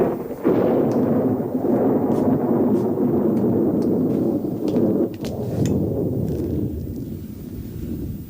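Heavy thunderstorm with a long, deep rolling rumble of thunder over steady rain, loud and sustained, with sharp crackles on top and a gradual fade toward the end.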